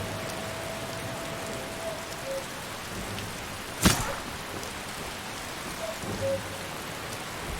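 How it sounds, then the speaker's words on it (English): Steady rain falls in a snowy Skyrim wilderness, a constant soft hiss of drops with one sharp crack partway through and faint distant tones in the background. "It's too wet and rainy"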